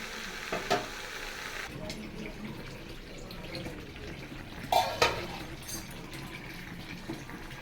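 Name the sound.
onions and whole potatoes being stir-fried in a pan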